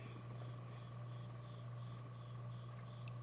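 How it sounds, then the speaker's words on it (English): A cricket chirps in a hallway, faint repeated short trills pulsing steadily over a loud low electrical hum in a quiet indoor room. "And there go that cricket. Can y'all hear him?"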